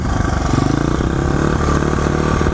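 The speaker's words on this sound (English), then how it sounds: "once you start twisting the throttle, you can hear the RPMs going up" Motorcycle engine revving steadily as the throttle is twisted, a loud, close, continuous throbbing drone with pulsing rhythm that holds through the whole stretch, no talking over it.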